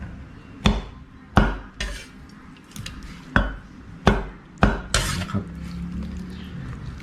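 A knife chops pieces of fish maw down onto a cutting board in sharp, separate thuds, about seven strikes spaced unevenly and heard up close with no talking.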